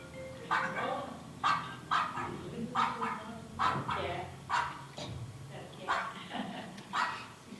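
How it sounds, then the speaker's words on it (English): A dog barks at a cat, sending out about nine sharp, evenly spaced barks in a steady rhythm, fairly close and loud against faint background murmur. "He's barking at a cat."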